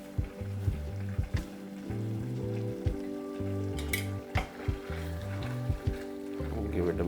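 A spoon stirs red chana masala, a black chickpea curry with fresh coriander and kasuri methi, in a pan over the flame, giving soft scraping and a low steady sizzle with a few clinks against the metal.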